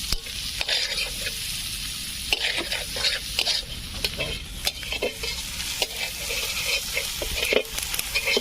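Spice paste for a pangas catfish curry sautéed in a pan in a village kitchen, a busy hissing sizzle with frequent sharp scrapes and clicks of a spatula stirring throughout.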